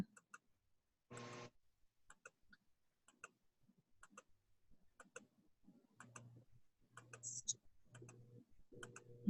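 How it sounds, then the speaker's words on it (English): Computer mouse clicks placing nodes in Silhouette Studio: sharp, faint clicks in an irregular series, heard under a person speaking quietly. "So every time I'm clicking, I'm putting down a node."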